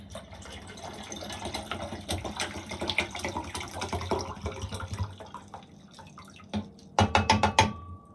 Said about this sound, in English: let's take the acid and pour all of it into the beaker.